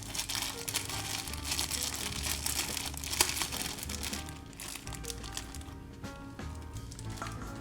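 Mushrooms are pulled from a plastic bag, producing continuous close crinkling and rustling that is moderately loud and runs throughout without speech.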